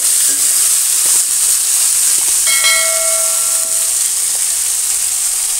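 Fenugreek leaves and moong dal sizzle loudly and steadily in a hot pan, a close, constant hiss of frying with a few faint clinks and a brief ringing tone partway through.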